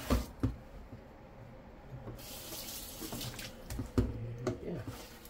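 Tap water runs into a kitchen sink while a pot is being cleaned, a soft steady hiss of flowing water broken by faint clunks and scrubbing knocks of the pot, close and quiet.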